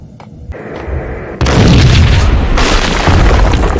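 A loud explosion goes off in the Max Payne video game, a booming blast followed by a sustained roaring rumble and crackling debris, close and heavy, with no voices.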